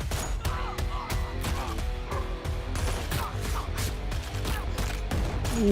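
Gunfire in a Tamil action movie trailer, rapid bursts of shots mixed over a dense music and effects track, steady and fairly loud.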